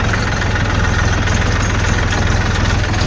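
A tractor engine idles steadily on a farm track between fields, a continuous low rumble with a regular rapid pulsing throb, close and fairly loud with no voices over it.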